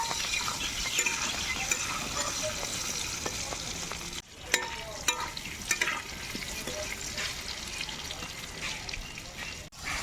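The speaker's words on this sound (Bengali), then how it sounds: "এই দেখুন, আলুগুলো কিন্তু খুব সুন্দর করে কড়া করে ভেজে নিয়েছি।" Potatoes fry in mustard oil, making a steady, crackling sizzle over repeated stirring scrapes and clinks. The sound cuts out briefly near the middle and again near the end.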